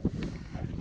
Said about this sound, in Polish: Jak słyszycie, wiatr mocno wieje.